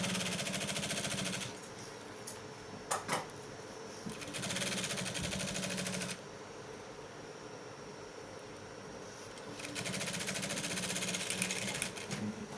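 Sewing machine stitching the back of a garment in bursts, a loud steady mechanical whir that starts and stops several times, close up with a few clunks between runs, no talk.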